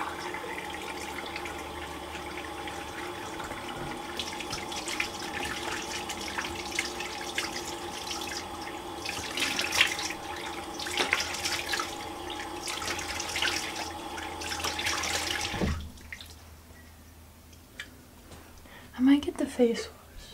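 A bathroom tap runs steadily for about fifteen seconds as water is used to wet the face, a close hiss with a person talking over it, then the flow stops and only faint splashes remain.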